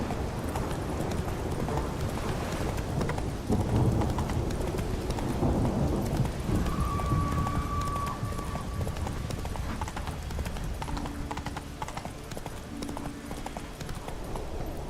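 Hoofbeats of Roach, the horse in the video game Witcher 3, clip-clop in a steady galloping rhythm throughout, loud and close over a busy game soundscape with a brief whinny-like tone partway through.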